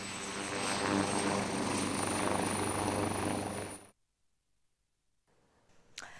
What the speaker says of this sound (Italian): tante persone che hanno atteso il decollo dell'elicottero per scattare qualche foto ricordo